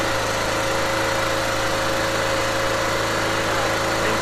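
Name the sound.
Dirty Hand Tools tow-behind brush mower engine starting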